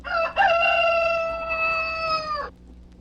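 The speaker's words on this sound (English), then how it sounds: "We all heard the rooster crowing as Jesus had said." A rooster lets out one long, loud crow close by, rising sharply and then holding steady before cutting off, with nothing else around it.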